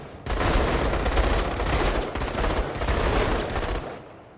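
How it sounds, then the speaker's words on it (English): Dense, continuous bursts of gunfire rattle for about four seconds in the video game Menace, loud and close with no talking, then cut off sharply. "Love the stray bullets."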